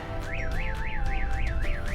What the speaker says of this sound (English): Then the siren's going to go off,